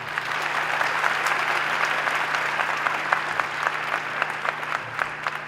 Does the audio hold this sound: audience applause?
yes